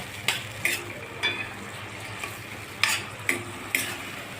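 Tomatoes and beetroot sauté in a pan with a low, steady sizzle, punctuated by about seven sharp scrapes and clinks of a spatula stirring against the metal, no voices.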